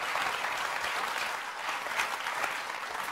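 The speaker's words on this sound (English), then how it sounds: "Let's give a round of applause." Steady audience applause at a talk on company-community partnerships, dense clapping from a seated crowd holding an even level for about three seconds with no voices over it.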